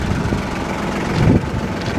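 A tractor engine runs steadily close by in an outdoor logging setting, a low continuous rumble with a brief surge partway through and no voices.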